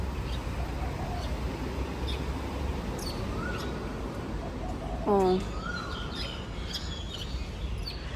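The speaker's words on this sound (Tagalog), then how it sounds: "Ayan, makikita nyo yung mga ibon na yan." Birds chirping in a garden on an overcast morning, scattered faint tweets and short calls over a steady background hiss, with one brief louder call midway and a short spoken exclamation.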